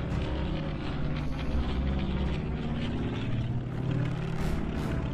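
A propeller aircraft takes off from a carrier in Air Conflicts: Pacific Carriers, a dense, steady engine roar that stays loud and unbroken throughout.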